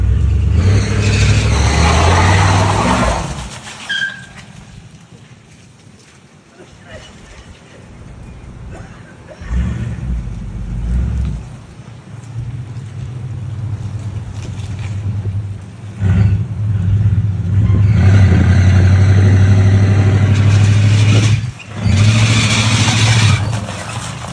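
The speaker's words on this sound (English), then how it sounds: "He got to spinning it around quick enough that he finally caught a wheel, and then it cut off on him." A car revs hard and spins its wheels on wet ground in a burnout attempt at a car show, the engine roaring loud and near in surges, dropping off briefly midway before rising again, with some talk mixed in.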